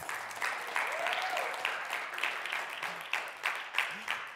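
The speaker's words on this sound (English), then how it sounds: "another round of applause" Steady crowd applause fills a church service, dense clapping with a few sharper bursts near the end, carrying on without pause.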